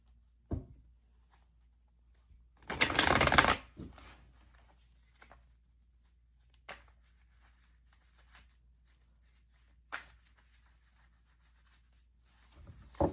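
Tarot cards are shuffled at a table in one brisk, rustling riffle lasting about a second. Scattered soft taps and card handling follow in an otherwise quiet room.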